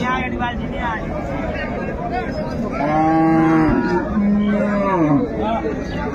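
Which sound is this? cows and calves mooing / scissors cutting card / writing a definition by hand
cows and calves mooing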